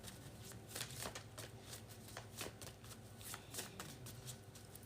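A deck of dragon oracle cards is shuffled by hand, a quiet, close run of rapid papery riffles and flicks in an even rhythm, with no talking.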